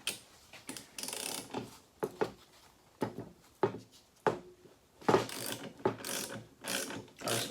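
A spring compressor being loosened on a Toyota 4Runner strut during a suspension replacement: repeated ratcheting clicks in short bursts, close and fairly loud, with brief pauses between runs.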